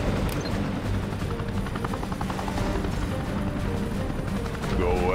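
A helicopter's rotor chop drones steadily throughout, mixed with mechanical clatter and game-style effects, loud and continuous, from the real-time strategy game Command & Conquer Generals Zero Hour.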